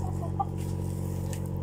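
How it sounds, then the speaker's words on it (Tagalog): A chicken gives a faint, brief cluck or two over a steady low mechanical hum. "So ito nga pala guys yung manok namin dito."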